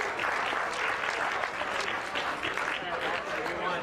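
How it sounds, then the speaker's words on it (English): Steady round of applause from a crowd at a charity golf classic, thick continuous clapping throughout with faint voices beneath. "Give them a round of applause."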